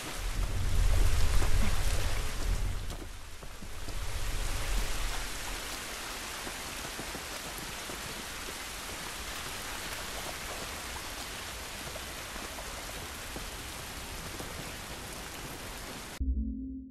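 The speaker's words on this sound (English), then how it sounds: "This rain ain't gonna do us any good." Steady, dense rain hiss from the video game The Last of Us, heard outdoors and continuous throughout, with a heavier low rumble in the first few seconds before settling into an even downpour.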